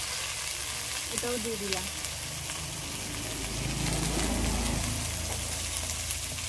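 Okra and torn green chillies sizzle steadily in hot oil in a home kitchen, the frying swelling louder midway with a few stirring scrapes and a short spoken line near the start.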